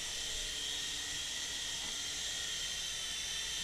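Small Audely Storm Eagle RC helicopter flying indoors after its throttle is brought back up, a steady high-pitched whine and airy rotor hiss running without a break, fairly faint, no voices.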